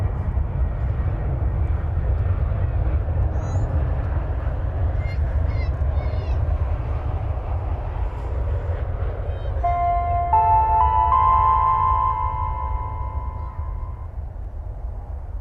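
A Spirit Airlines airliner passes at an airport, a steady low engine roar holding throughout with no talk over it, while a bird calls faintly and a thin whistling tone rises near the end.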